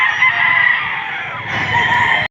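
At the Padre Garcia chicken market in Batangas, a rooster crows in one long, loud, strained call that breaks off sharply at the end, close by and heard alone.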